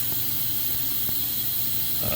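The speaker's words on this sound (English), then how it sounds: "I'll keep spraying it with carbon choke cleaner" Carbon and choke cleaner sprayed from an aerosol can onto a corroded small-engine carburetor part, a steady broadband hiss running throughout at close range with no talk.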